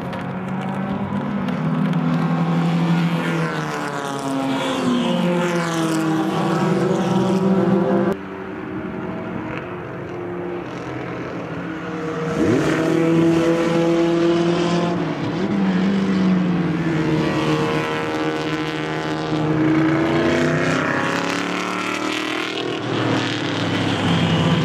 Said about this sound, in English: it's time for the start of the 5-lap driver orientation program feature race